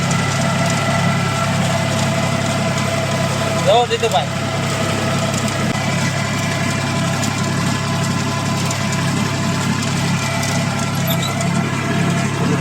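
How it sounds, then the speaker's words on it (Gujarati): A tractor engine runs steadily in a field of summer millet, a low continuous drone with a faint knock, while someone talks over it. "જીતુભાઈ આપણે ટ્રેક્ટર હાકે છે"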